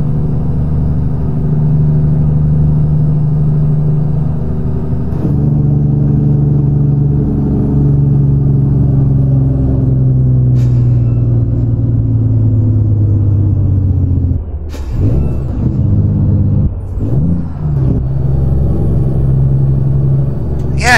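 A Freightliner Argosy truck engine in American Truck Simulator drones loudly and continuously, its harmonic pitch gradually falling as the Jake brake holds, then briefly dipping and rising again near the end.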